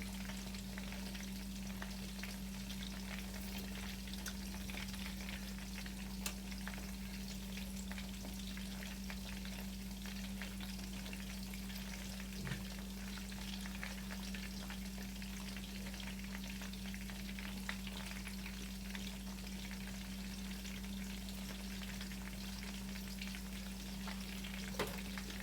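A breaded chicken cutlet frying in oil in a pan, a steady crackling sizzle with a constant hum underneath, even and unbroken throughout, with no talking.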